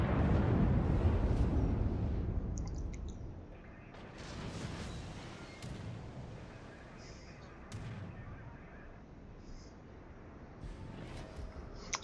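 Front guns of the Bayern battleship firing in the World of Warships video game: a heavy booming salvo at the start decays into rumble, followed by fainter scattered impacts and distant thuds.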